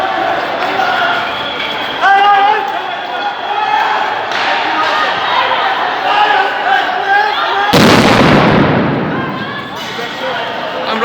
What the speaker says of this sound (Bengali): সাউন্ড গ্রেনেড দেখতে পাচ্ছি শুনতে পাচ্ছি